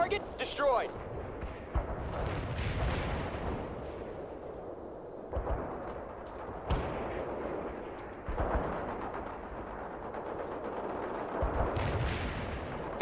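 Battle in the video game World in Conflict, with dense gunfire, machine-gun bursts and heavy artillery booms rumbling almost continuously over thirteen seconds, broken by sudden sharp cuts and voices calling out amid the combat.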